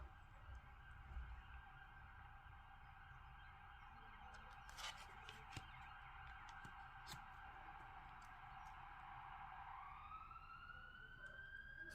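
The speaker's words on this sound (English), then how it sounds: "You can hear police cars." Police car sirens drift in through an open window, a faint wailing tone that lasts throughout under background hum and sparse clicks, with a rising sweep near the end.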